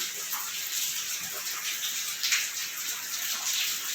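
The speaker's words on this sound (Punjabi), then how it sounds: "ਮੀਂਹ ਘਟਣ ਦਾ ਨਾ ਹੀ ਨਹੀਂ ਲੈਂਦਾ ਰਾਤ ਦਾ ਕੱਲ ਦਾ ਪਈ ਜਾਂਦਾ" Heavy rain falls without pause, a steady, even hiss of downpour that stays faint and unbroken throughout.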